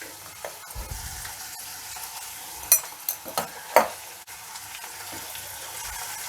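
Malabar spinach chutney ingredients fry in a pan as turmeric goes in, a soft steady sizzle with a few sharp clinks and scrapes of a spoon stirring near the middle.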